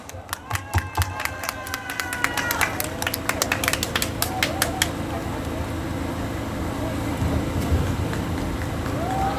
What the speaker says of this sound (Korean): 강민수 청년위원장 큰 박수로 모셔보겠습니다